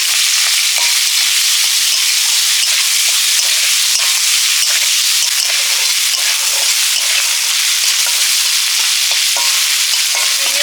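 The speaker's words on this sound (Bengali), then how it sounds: "আমি একেবারেই ফোড়ন দিয়ে ভেজে নিচ্ছি" Prawns fry in oil with five-spice seeds, a dense continuous crackling sizzle that stays loud and steady throughout with scattered sharper pops and no voices.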